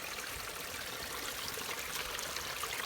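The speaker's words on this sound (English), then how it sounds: "We've got another trickle of water there coming in off the hill" Steady trickle of rainwater running off a hill into a farm dam after heavy rain, a continuous close, even hiss of flowing water with no break or voices.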